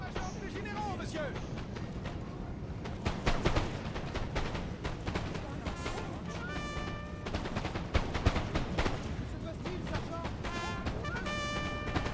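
Napoleon Total War battle with continuous gunfire, volleys of musket shots crackling on and off throughout, mixed with heavier booms of artillery, while a voice talks over the din.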